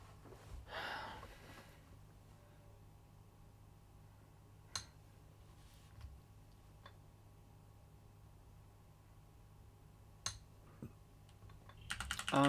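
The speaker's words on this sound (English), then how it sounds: "I'm pressing the delete key on the keyboard." Delete key tapped repeatedly on a computer keyboard while an Intel Coffee Lake i5 9400 PC restarts into BIOS; faint scattered clicks sit over a steady low hum, with a louder cluster of presses near the end.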